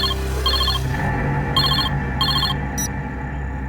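A telephone rings in repeated short electronic trilling bursts over a low background drone, close and fairly loud.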